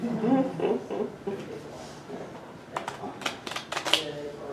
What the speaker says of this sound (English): We'll just see how good she is at shuffling cards.